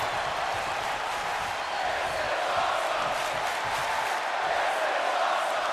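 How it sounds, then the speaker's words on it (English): In the WWE 2K25 wrestling game, a capacity arena crowd at Madison Square Garden roars steadily, a dense wash of cheering and shouting that holds loud and unbroken throughout. "Some great appreciation being shown by this capacity crowd here in the Garden"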